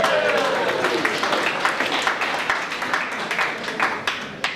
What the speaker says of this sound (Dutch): Ja, applaus voor hem!